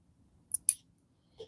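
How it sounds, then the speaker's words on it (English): Small scissors snip a Giant Angora rabbit's toenails, giving two quick sharp close clicks followed by a fainter third snip in an otherwise quiet room. "We're going to finish trimming your toenails."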